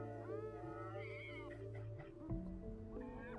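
In the video game Stray, a cat lets out a couple of clear, drawn-out meows over steady, soft game music, ending with a short low thump.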